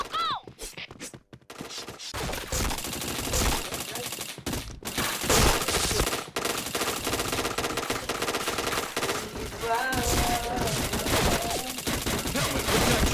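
Rapid automatic gunfire from a shooter video game rattles in dense bursts across the whole stretch, loud and continuous with brief gaps and a few sharp single shots.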